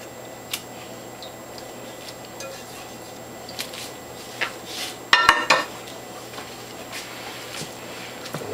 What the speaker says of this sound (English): I'm going to put the rest of this pulp that I have in these other containers in here and mix it again